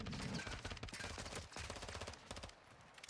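Call of Duty MW2 gunfire during a one-on-one gunfight: dense, rapid shots rattle continuously for about three seconds at moderate volume, with no voices.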